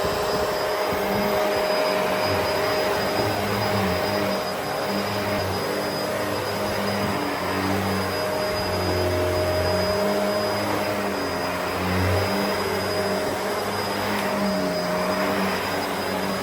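A steady, even motor whir of a Bissell vacuum cleaner running continuously at moderate loudness, with a faint high whine and low rumbling underneath, no voices.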